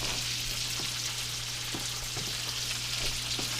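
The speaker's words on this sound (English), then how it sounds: "Now we're sauteing" Steak tips sauté in a hot pan with a continuous dense sizzle and faint periodic ticks and pops, close and steady with no talking.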